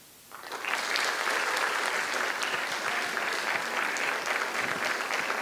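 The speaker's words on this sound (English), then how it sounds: "Let's keep that applause going." Audience applause after a poetry slam performance, starting abruptly after a short quiet moment and continuing as dense, steady clapping from a sizable crowd for several seconds.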